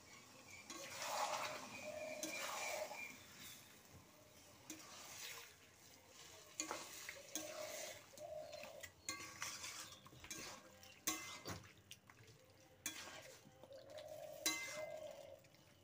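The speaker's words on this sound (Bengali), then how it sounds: "দিয়ে মাংসটা ভালো করে আমি নেড়ে নেব" A spoon stirs mutton curry with potatoes in a pot, giving repeated soft scraping and sloshing strokes over a faint sizzle, close and fairly quiet, with no talking.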